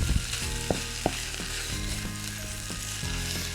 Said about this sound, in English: So we're going to saute the meat mixture,